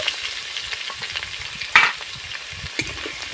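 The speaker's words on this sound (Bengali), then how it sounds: "এবার আমি গাজর আর ফুলকপিটা একটু নাড়াচাড়া করে ভেজে নেব হালকা করে" Small pieces of carrot and cauliflower sizzle steadily in a pan while being lightly stirred, a continuous close frying hiss broken by a brief louder scrape of the spatula midway and another soft knock near the end, with no talking.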